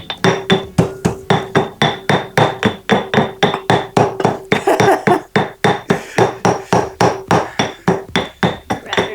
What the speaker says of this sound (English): you want this to be fairly finely crushed, which is why I like to use a mortar and pestle